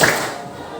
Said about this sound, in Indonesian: Tepuk satu.